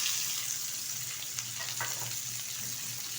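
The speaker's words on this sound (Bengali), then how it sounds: "পেঁয়াজটা ভালোভাবে ভেজে নেব।" Chopped onion fries in mustard oil already used for frying tilapia, with a kalo jeere tempering, giving a steady close sizzle with light crackles and a faint stirring scrape.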